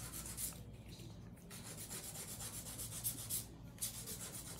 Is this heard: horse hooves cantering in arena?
no